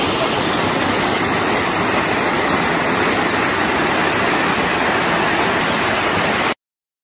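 A waterfall roars in a steady, loud broadband rush, continuous and unbroken from start to finish with no voices over it.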